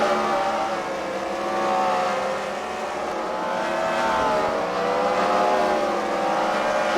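Race cars run laps around an oval at a night fight event, engines droning and revving in a steady blended roar that swells and fades slightly as cars pass, moderately distant, with no talking.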